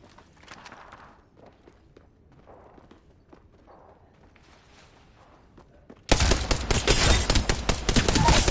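In Apex Legends, dense automatic gunfire erupts loudly after a stretch of quiet footsteps and movement sounds, rattling continuously to the end.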